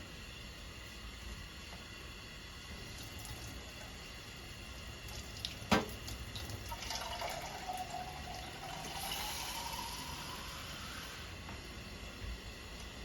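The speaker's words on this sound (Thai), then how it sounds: "เติมน้ำไปน้อยหนึ่งเจ้าเพื่อแกงหมูเนาะ" Water being poured into a pot of pork and coconut-milk curry, a faint pouring and running sound that swells for a few seconds after a sharp clank, with a quiet background and no talking.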